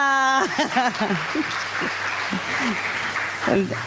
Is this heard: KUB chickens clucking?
no